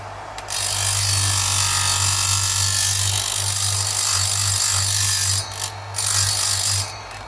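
A high cut rate grinding wheel runs against metal, a steady loud motor drone with a harsh grinding hiss that holds for several seconds, dips briefly, resumes, then stops.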